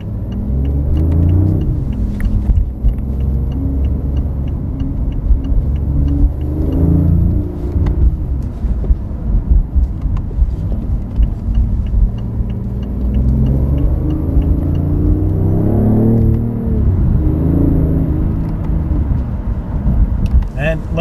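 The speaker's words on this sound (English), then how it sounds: "You can even downshift with the combustion engine, and it sounds awesome." Inside a 2015 BMW i8 on the road, the combustion engine drones and rumbles, rising in several rev swells as it downshifts, with a person talking over the engine noise.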